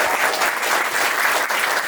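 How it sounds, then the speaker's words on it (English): Sustained applause from a ceremony audience after a marriage proposal story, dense steady clapping filling the room with no voices on top. "Give him a round of applause."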